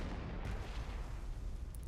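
A tank fires a shot in Panzer Corps 2, a faint, broad rumbling blast that fills the whole moment evenly as a single muffled boom with a washy tail, with no voices.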